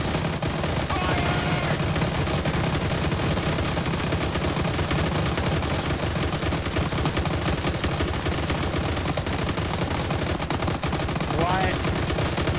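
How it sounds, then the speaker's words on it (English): Rapid, continuous machine gun fire from a .50 cal mounted on a transport truck in the military shooter game Arma 3, loud and dense throughout, with voices briefly heard over it. "the 50 cals on these transport trucks are infinite and fire fast"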